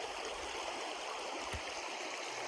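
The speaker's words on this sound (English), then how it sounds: "Got a pretty decent water flow going through here" Water flows through a steep creek in gold-prospecting country, a steady rushing, burbling stream heard close up and alone, with no voices over it.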